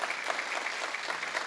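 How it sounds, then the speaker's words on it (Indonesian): A church congregation claps together during a Sunday service, a steady, dense wash of applause at moderate volume filling the room, sustained without pause. "Beri tepuk tangan yang lebih meriah."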